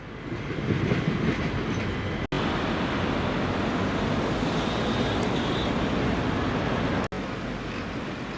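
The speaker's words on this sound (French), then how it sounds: "À présent, je vais passer sous les voies de chemin de fer." A train rolls over the railway tracks in Caen, heard from the street passing beneath them as a steady, loud, continuous rumble with no voices.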